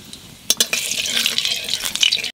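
Nigella seeds (kalo jeere) dropped into hot oil in a pan while cooking eggplant for a Bengali malaikari curry burst into a bright, hissing sizzle after a brief quiet start, then keep crackling steadily and close by.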